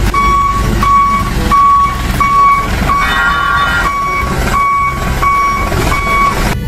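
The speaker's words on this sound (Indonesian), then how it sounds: "Di sini ada mobil truk pasir," A toy sand truck sounds a loud, close electronic reversing beep repeating at a steady pulse, over a bed of tinny motor and background noise.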